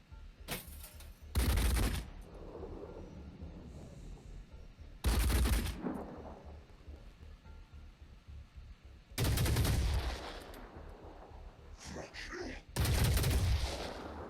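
Heavy gunfire in the video game Phoenix Point comes in four loud, dense bursts separated by quieter stretches, with faint talk in between.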